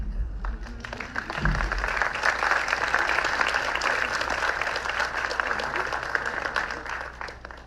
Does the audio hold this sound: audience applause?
yes